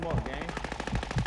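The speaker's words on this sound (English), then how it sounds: "I hear this bitch shooting, but I don't see the bitch though." Rapid, loud automatic gunfire rattles in steady bursts throughout a video game firefight, with faint voices mixed underneath.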